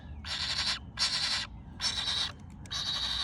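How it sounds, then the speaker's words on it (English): Red-bellied woodpeckers at a nest box in rainy Southwest Florida, four harsh, buzzy churring calls repeating at a steady rhythm, loud and close over a low background rumble. "By the sounds of that, I bet we have red-bellied woodpeckers."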